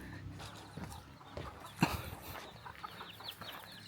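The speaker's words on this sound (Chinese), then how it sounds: "小鸡" Chickens cluck in an old village yard with woodpiles, with scattered short calls near and far over steady outdoor background noise. One louder squawk stands out midway.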